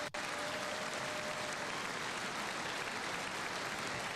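Sustained, dense applause fills a large chamber for a president, steady and loud from start to finish with no voices rising above it.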